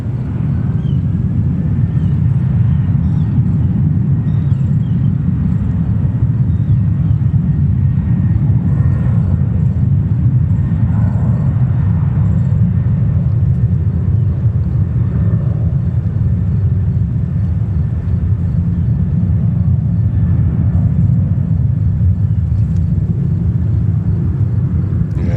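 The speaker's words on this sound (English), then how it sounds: "And clear for takeoff." A jet airliner taking off at JFK Airport in New York, a loud, steady, deep engine roar sustained throughout without a break.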